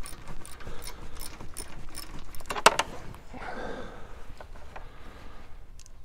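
A socket set tightens bolts while a luggage rack is fitted, giving close metallic ratcheting and clinking in short bursts over faint background noise.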